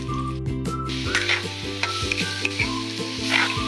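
Menudo meat browning in a pan gives a loud, close, continuous sizzle with repeated scraping stirs and utensil clinks, and no voices over it.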